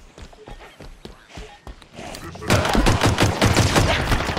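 Rapid gunfire in the Halo Infinite video game: scattered single shots and footstep-like thuds give way to a dense, loud burst of automatic fire in the final seconds.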